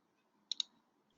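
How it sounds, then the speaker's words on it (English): Computer mouse double-click on a desktop, two quick sharp clicks in rapid succession, close and alone against near silence. "you just double click on the startup.bat file"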